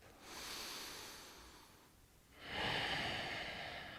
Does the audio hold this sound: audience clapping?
no